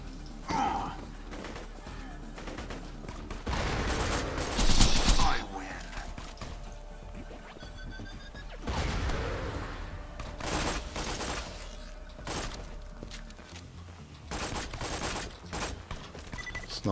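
Sandhawk gunfire in Borderlands during the Raid on Digistruct Peak, with several bursts of shots spread across the stretch amid game effects and occasional voice sounds.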